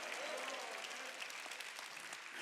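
A church congregation claps together during a Wednesday worship service, a dense, steady wash of applause that holds at an even level throughout without pause.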